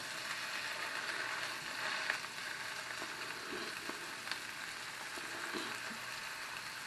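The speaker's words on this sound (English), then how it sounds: "Just let them cook on each side for a minute or so. And I like to push down on them to make sure they make full contact in the pan" Pork chops searing in a hot pan, a soft continuous sizzle with faint scraping and light clicks, quiet and even with no talking.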